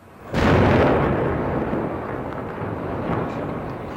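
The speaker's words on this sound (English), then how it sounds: "That was an IRA bomb." An IRA bomb explodes in archive news footage: a sudden, loud, deep blast followed by a long, rolling rumble that fades only slowly, with no speech.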